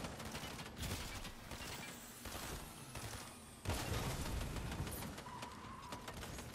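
Fortnite gunfire crackles in dense, rapid bursts of shots, moderately distant and continuous, with a louder flurry partway through and no voices over it.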